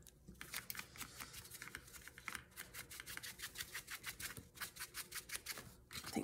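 Scissors snip paper for a junk journal, a close, rapid series of crisp cutting clicks in a steady rhythm, briefly pausing before resuming, with no talk.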